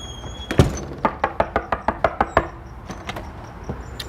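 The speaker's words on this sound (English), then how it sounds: "So knocking on the door is a big one for a lot of dogs." Repeated knocks on a door in a dog-training setting, a quick run of about a dozen sharp raps followed by a few softer, sparser taps, moderately close with no talk.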